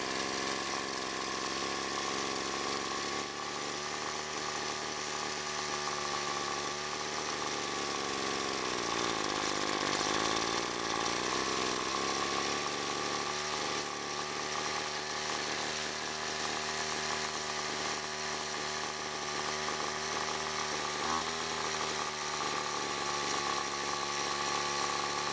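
A Weedeater Featherlite FL20/FL21 two-stroke trimmer engine runs steadily at a fast idle, a continuous buzzing drone with slight pitch wavers as the mixture is adjusted, heard close and alone.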